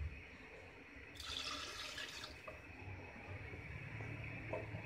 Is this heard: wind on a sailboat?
no